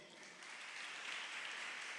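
A church congregation applauds during a year-end sermon with a faint, diffuse wash of clapping that swells slightly and holds for about two seconds.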